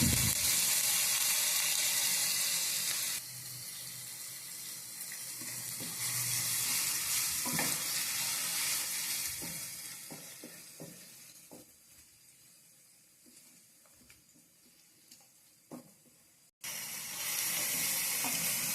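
Masala paste with ginger-garlic paste frying in oil for a bottle gourd gravy, a loud bubbling sizzle with repeated spoon scrapes and stirring clatter that dips quieter midway before the hiss returns strongly, no voices.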